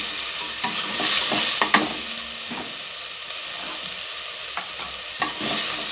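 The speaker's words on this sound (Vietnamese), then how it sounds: "Đó, cho cái hành tỏi khô vào để phi thơm này." Dried shallots and garlic frying in a pot for pumpkin and pork bone soup, with a steady close sizzle, stirring scrapes and a few sharp clinks.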